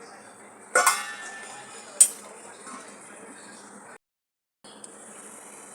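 A lid placed on a cooking pan of spiced ivy gourd, two sharp metallic clinks, the second brighter and shorter, over a faint steady cooking hiss.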